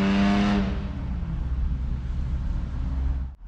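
Car engine revs with a loud exhaust, a sharp rising roar that eases into a steady rumbling drone before cutting off abruptly at the end.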